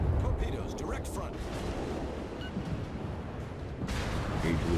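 Naval gunfire in the video game World of Warships, with deep rumbling cannon blasts and crackling impacts that swell and fade amid constant engine and sea noise, dense and moderately loud.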